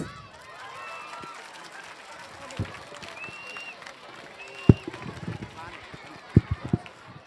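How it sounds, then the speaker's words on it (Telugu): An audience of children at a commemorative gathering claps on cue, scattered loud claps and a rising burst of applause near the end over a murmuring crowd and some talk. "Very good, big claps."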